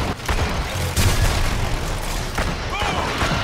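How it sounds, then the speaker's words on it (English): A grenade blast in the video game Evolve, a booming burst with low rumble near the one-second mark, heard over continuous game noise and shooting. "How do you like that grenade"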